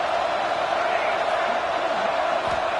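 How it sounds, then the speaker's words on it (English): A football stadium crowd roars early in a college game, a dense, sustained wash of noise from many voices that stays loud and steady throughout. "It's early, but this crowd is fired up. Listen to this noise here."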